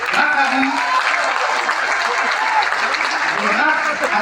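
Audience at a diploma award ceremony at the ESCAE business school applauds steadily, a dense sustained wash of clapping filling the hall, with voices mixed in.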